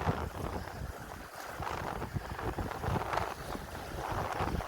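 Strong wind buffets and rumbles across a jagged rocky sea-fishing coast, gusting unevenly with a low roaring wash and no voices.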